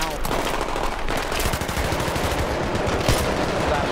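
Rapid automatic gunfire in the video game Battlefield 3 rattles on continuously and loudly, with dense bursts that run through the whole stretch.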